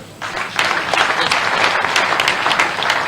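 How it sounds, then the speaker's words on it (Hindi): Crowd at a BJP office event in Bhopal applauding in welcome, steady dense clapping that holds at a loud level throughout. "तालियां बजा के स्वागत"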